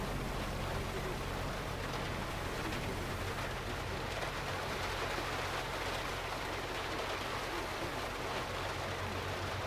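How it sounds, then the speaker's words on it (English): Heavy rain in the Jurassic World Evolution 2 video game, a dense, steady hiss of falling rain that holds at an even loudness throughout, with a low constant rumble beneath and no voices. "we can't hear it because of the rain"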